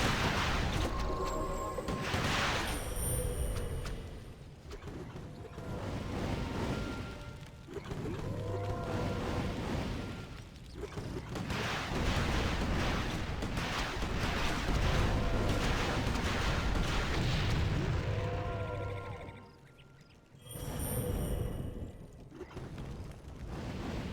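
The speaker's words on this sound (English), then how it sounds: "Under siege. Player's forces are under attack." A real-time strategy battle with forces under attack unfolds as a dense, loud stretch of booms, clanks, creaks and rumbling mechanisms that swells and dips over about twenty seconds, with no speech.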